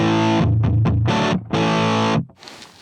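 Distorted electric guitar through a Line 6 Helix LT amp model with a 4x12 cabinet, loud, chunky chords chopped in short bursts, then a sustained chord cut off into a brief faint tail.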